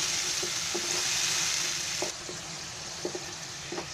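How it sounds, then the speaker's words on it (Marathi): Tomatoes fry in oil for a Konkani-style yogurt chicken curry, sizzling steadily while a spoon scrapes and taps the pan several times. "टोमॅटोचं एकदम म्हणजे कसं तेल सुटेल असं ते आता शिजवून घ्यायचं आहे पहिलं."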